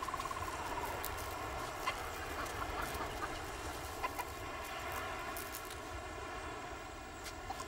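Maleo birds on a Sulawesi beach give faint, soft, fowl-like clucking calls over a steady, low background hiss.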